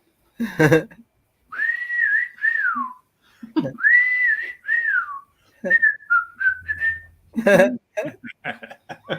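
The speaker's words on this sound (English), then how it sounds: "Eat crackers and whistle." A person whistles after eating crackers, producing a series of wavering melodic whistled phrases with gaps, interrupted by bursts of laughter and chuckling at the start and end.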